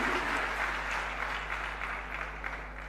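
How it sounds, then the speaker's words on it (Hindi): Steady audience applause at the inauguration of a Khadi festival and silk expo in Lucknow, a sustained wash of clapping from a large crowd heard at a distance with a low hum beneath. "सभी के लिए एक बार जोरदार तालियां बजा दें।"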